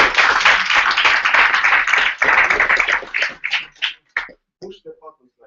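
Audience at a Garage48 hackathon in Vitebsk applauds, a dense burst of clapping that thins into scattered individual claps and stops, with some speech mixed in.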